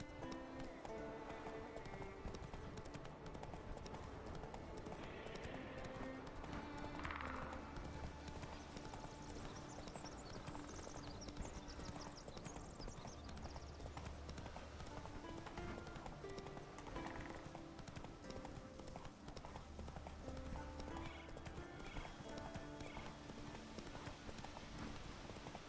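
Roach, the horse from The Witcher 3, gallops in a steady clip-clop of hooves under a continuous bed of game music, with a brief whinny partway through.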